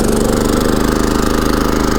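A Champion 3400 dual fuel inverter generator runs under an electric heater load set to high in economy mode, giving a loud, steady engine drone with a fast, even pulsing throughout.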